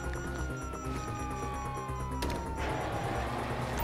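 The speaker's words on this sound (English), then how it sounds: "you hear that? Sirens." Police sirens wail in the prologue of a Grand Theft Auto video game, a steady tone gliding slowly downward over a dense, loud game soundtrack with a sharp burst partway through.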